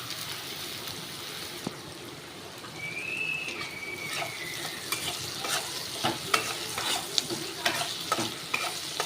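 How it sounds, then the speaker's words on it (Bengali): Onions fry in oil in a pan for a Bangladeshi-style pangas fish curry, with a steady sizzle under repeated scraping stirs of a spatula that grow more frequent toward the end, close by and with no talking. "দেখো পেঁয়াজটাকে ভাজা করছি"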